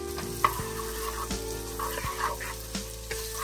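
Small shallot sizzling in a hot oiled pan, with a steady frying hiss and a few sharp stirring clicks from a utensil against the pan, close and alone with no voices.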